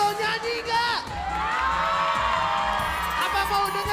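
A school audience of SMA 36 students cheers and whoops loudly and continuously throughout, with shouting voices and a host talking over the steady crowd noise.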